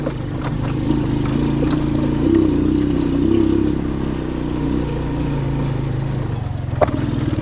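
A motorcycle engine runs steadily on a mountain road at Quiot Pardo, a low continuous drone that swells slightly midway and stays close and fairly loud.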